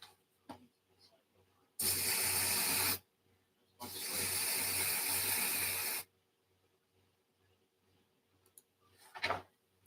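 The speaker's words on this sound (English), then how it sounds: "Insect killing spray can wipe out any mutated mosquito" Insect-killing spray in a video game, heard as two long, loud hissing bursts from an aerosol can separated by a short pause, over a quiet, steady game background.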